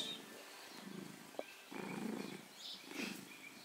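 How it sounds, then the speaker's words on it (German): A cat purring while being petted, a soft low rumbling in several slow pulses, faint and close, with no voices. "Der schnurrt sich hier weg."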